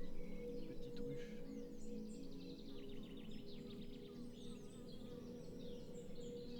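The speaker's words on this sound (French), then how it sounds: "Ah oui, ça bourdonne." Wild bees buzz at a small hive high in a tree at a tree-felling site, a faint, steady drone with birds chirping faintly over it.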